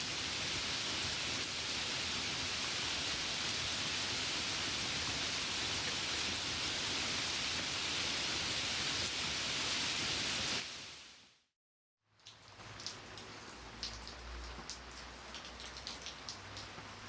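Rain in Ashenvale in World of Warcraft hisses in a dense, steady wash, cuts to a brief silence, then returns softer with scattered drips and a low hum.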